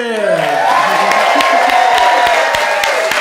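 A live studio audience at a New Orleans variety show claps and cheers steadily for a band introduction, with loud continuous applause, whoops and shouts filling the room.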